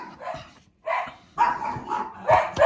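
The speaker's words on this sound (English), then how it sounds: "The dogs are raising a ruckus." Dogs bark loudly and close by in several sharp bursts with short gaps between them, some yips mixed in.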